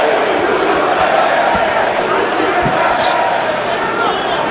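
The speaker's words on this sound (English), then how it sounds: "And the Brazilians in the crowd start their chant." A crowd of Brazilian fans at an MMA fight chanting in unison, a dense rumbling arena roar with a rhythmic chant underneath, heard at a distance while a commentator talks over it.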